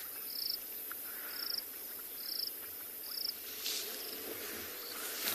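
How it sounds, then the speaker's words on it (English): Dusk in the South African bush: a steady, faint chorus of crickets and insects with rhythmic bubbling calls from cassina frogs repeating about every second in the distance. "You can hear some bubbling cassina frogs in the background."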